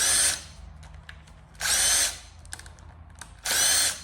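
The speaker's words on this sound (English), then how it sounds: "Use the drill for that one." A power drill backing out bolts on a 454 big-block engine whirs in three short bursts with quiet pauses between, close and loud, with faint clicks and handling noises in the gaps.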